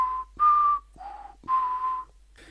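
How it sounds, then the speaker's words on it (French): A person whistles a few short tonal notes, clear and close, in a loose, uneven phrase with brief gaps between notes. "je me mets à siffler ou siffloter"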